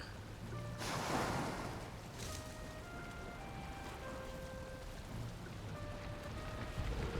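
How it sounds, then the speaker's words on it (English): Soft, steady rainfall in the video game Valheim patters continuously at a moderate distance, accompanied by faint tonal ambient notes drifting in and out, with no talking. "Raining. Got that going for us."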